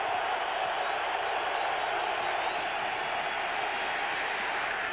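Stadium crowd at a 2004 Wild Card NFL game between the Rams and Seahawks, a loud continuous roar filling the stadium without letting up.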